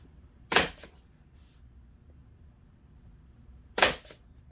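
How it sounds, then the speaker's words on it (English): An air-powered compressor staple gun fires twice into boat cushions, two sharp, crisp snaps about three seconds apart against a quiet background. "I like this compressor gun because it fully sets the staples really nicely"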